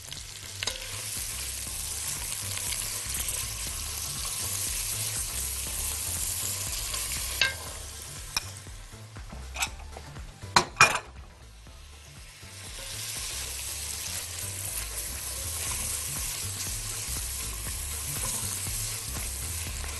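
Chopped onion for lentil soup fries and sizzles in a pot, a steady close crackle with a few sharp clicks and scrapes of stirring. The sizzle dips briefly midway, then returns as strong as before.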